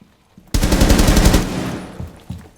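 A loud automatic burst fired into a destructible table on the House map in Rainbow Six Siege rattles for about a second, then fades into a ringing tail with a couple of faint knocks afterward; no voices.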